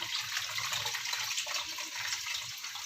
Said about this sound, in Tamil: இப்போ நம்ம இதில் புளி தண்ணி சேர்த்துடலாம்